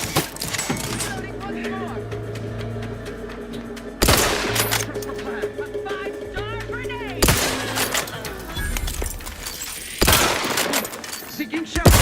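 Rifle fire in The Outer Worlds 2 cracks out in several sharp, loud bursts at close range, spaced a few seconds apart over a steady game soundscape with music and effects.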